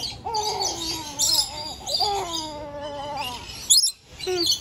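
A pet bird gives a run of hooting, owl-like calls with rising and falling tones, close and fairly loud, broken by short gaps and a brief sharp chirp, with no talk.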